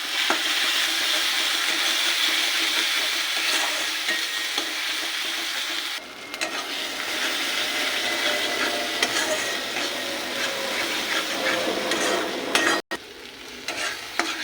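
Cumin, turmeric, chilli powder and salt fry in a pan while a spoon stirs them steadily. Loud, dense sizzling runs throughout with scraping strokes, briefly interrupted by a sharp knock near the end.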